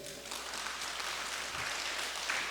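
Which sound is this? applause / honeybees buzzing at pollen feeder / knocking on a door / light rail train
applause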